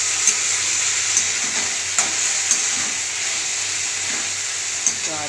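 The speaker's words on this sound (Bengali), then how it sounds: "অল্প করে আমি পরিমাণ মতন অল্প জল দেবো।" Prawns and potatoes frying in a pan give a steady, loud sizzle with faint scattered crackles and pops, a small splash of added water briefly adding to the hiss near the end.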